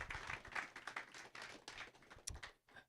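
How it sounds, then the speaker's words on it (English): Audience applause for a presenter at a tech meetup, a small crowd clapping in dense irregular bursts that stay fairly faint and trail off into a few scattered claps at the end. "Let's give one final round of applause to Thomas."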